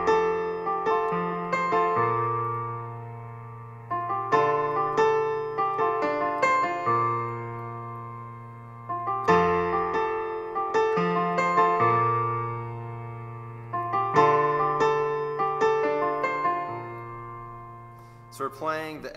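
Solo piano playing a gentle intro of "In Christ Alone" in F, a low F octave in the left hand under repeated chords in the right hand, clear and close.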